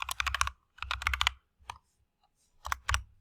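Short bursts of crisp clicks from typing a word on a computer keyboard, in three quick clusters separated by brief pauses, close and fairly quiet.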